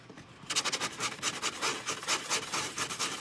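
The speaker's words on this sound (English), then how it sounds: "sand this thing out, you know. So just do it like in a circular motion." A fine sanding sponge rubs over an acrylic plexiglass sheet in quick, rhythmic back-and-forth strokes, a close, hissing rasp starting after a brief quiet moment and repeating steadily.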